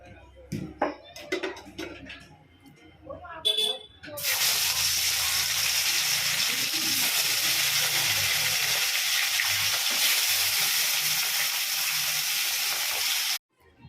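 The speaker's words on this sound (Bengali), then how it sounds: "তো তার জন্য আগে আমি কাতলা মাছগুলো ভেজে নিচ্ছি" Pieces of catla fish fry in hot oil for a Bengali kalia, a loud, steady sizzling hiss that starts abruptly after a few seconds of clattering and voices and runs unbroken until cut off.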